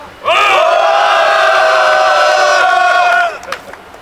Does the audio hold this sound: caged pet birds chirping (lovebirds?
no